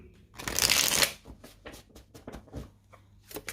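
Tarot cards being shuffled up close, one strong riffling burst followed by softer, irregular card slides and taps.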